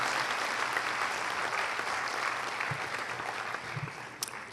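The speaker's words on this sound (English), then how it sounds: "Let's give another round of applause to our young expatriate kids." Sustained audience applause at a 2007 evening event with Sri Lankan President Mahinda Rajapaksa honoring young expatriate children, a dense steady wash of clapping that fades slightly toward the end.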